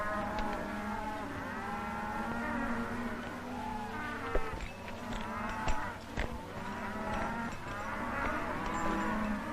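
Cattle in pens moo repeatedly in a 1940 Western setting, long overlapping lowing calls rising and falling, with buzzing flies and a few sharp knocks in between.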